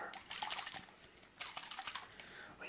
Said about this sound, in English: It adds some water onto your hair.